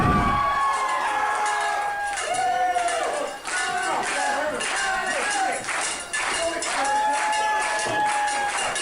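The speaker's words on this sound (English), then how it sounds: "Oregon crowd getting rowdy for Radrick here" Rowdy Oregon crowd at a wrestling event, a dense sustained roar of cheering and shouting voices with whistle-like yells rising over it, loud and continuous throughout.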